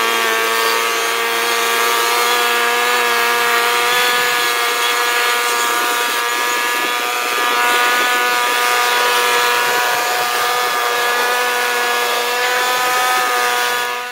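Loud, steady motor whine with a strong harmonic drone holds for the whole stretch, a blower clearing a plugged chute packed with wet red oak sawdust at a Frontier OS27 sawmill, with no talk over it.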